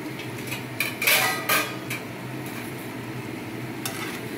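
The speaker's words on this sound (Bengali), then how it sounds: "চলো আমি ঢাকনাটা খুলে চেক করি।" A metal lid lifted off a cooking pot of simmering poppy seed drumstick curry, a couple of clanks and scrapes over a soft background bubbling.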